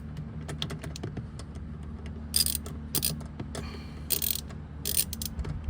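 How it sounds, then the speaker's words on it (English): A ratchet loosens a 10 millimeter bolt during a car dash cam install, giving fast light clicks in short runs. Brighter bursts of clicking come near the end over a low steady hum, close but fairly quiet, with no speech. "So we're just gonna unscrew it just a little bit."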